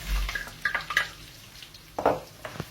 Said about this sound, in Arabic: وبنحرك لبين ما البصل ياخذ شوية لون